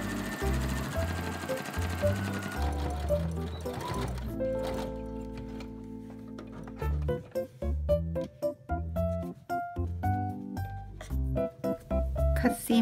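A sewing machine stitches a French seam, sewing the fabric's wrong sides together first, with a loud whirring burst at the start, a pause, then quick stuttering runs of stitching in short bursts.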